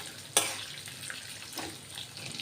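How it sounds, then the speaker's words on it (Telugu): Dry red chillies frying in hot oil for a tempering, a soft continuous sizzle with a sharp crackle at the start and a few quieter pops and stirring sounds after, no speech. "ఎండుమిరపకాయలు, కొంచెం వేగాక అప్పుడు కరివేపాకు వేద్దాం."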